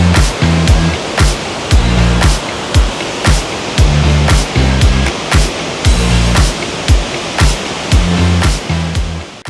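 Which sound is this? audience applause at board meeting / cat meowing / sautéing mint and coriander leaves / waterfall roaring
waterfall roaring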